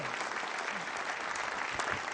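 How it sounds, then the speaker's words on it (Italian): Audience applause during a theatre performance, continuous dense clapping from a crowd heard at a distance, fairly faint and even with no break. "lascia che faccia l'applauso"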